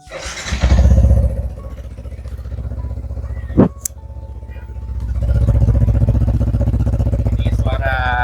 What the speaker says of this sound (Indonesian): suara knalpot dari silencer R25 yang sudah di custom